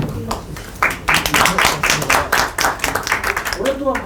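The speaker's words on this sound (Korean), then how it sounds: "큰 박수" Audience applause breaks out at a public forum on apartment security workers in Jeonju, a dense spread of claps running steady and fairly loud for the whole stretch, with a voice surfacing briefly near the end.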